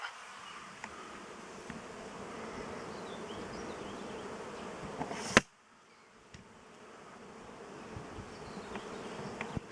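Honey bees at an apiary make a dense, steady buzzing swarm sound; a sharp click midway drops the level briefly before the buzzing continues, slightly quieter, with no talk.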